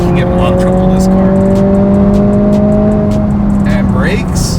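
A car accelerates hard out of a corner, its engine note rising steadily and loud and close throughout, with faint tire noise and a person talking over it.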